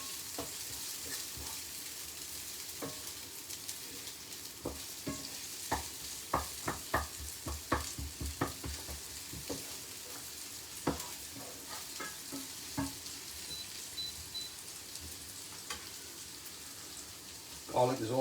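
Onions fry in a pan with a soft, steady sizzle, broken by clusters of sharp clicks and taps from stirring, mostly in the middle of the stretch, with no voice heard.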